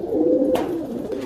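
A pigeon coos nearby in a fancier's loft of Rampuri and other breed pigeons, one soft throaty call followed by a second fainter coo.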